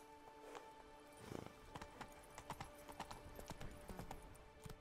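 Roach the horse from The Witcher 3 trots along with rhythmic clip-clop hoofbeats, steady and fairly close, with a faint game ambience beneath the repeated footfalls.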